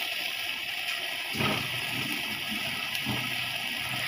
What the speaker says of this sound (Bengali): এই তো তেজপাতা ধুয়ে নিব আমি